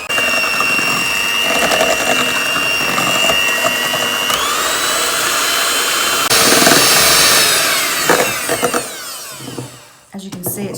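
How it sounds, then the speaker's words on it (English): Electric hand whisk beating a sugar mixture for a chocolate Yule log, a steady high motor whine with rattling beaters that shifts pitch midway, grows louder and rougher, then stops near the end. "I'm going to use an electric whisk"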